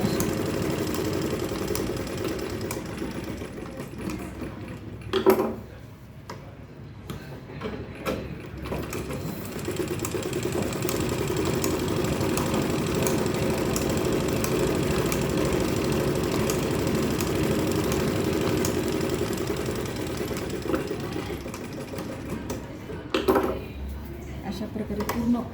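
A sewing machine stitches a belted fabric purse for a little girl, running in a steady, continuous whir at moderate level with brief pauses and a couple of short clacks.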